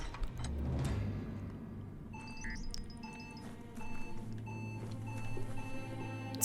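Electronic beeping in the video game Biomutant, a series of short tones repeating at a quickening pace over a low rumbling game ambience, at moderate volume with no speech.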